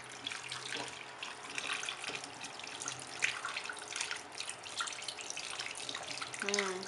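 Steady running tap water splashes continuously, close by, as makeup brushes are rinsed under it, with faint clinks and a brief squeak near the end.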